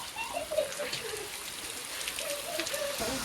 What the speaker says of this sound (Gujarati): અને જો આપણે અત્યારે ઘેરે આવ્યા છીએ અને વરસાદ બહાટી બોલાવે છે.